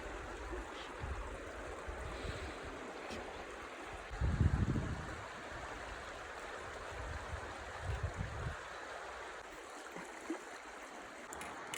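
The Stryi river near Tustan flows in a soft continuous outdoor wash, faint and steady, with a few brief low thumps and rustles breaking in.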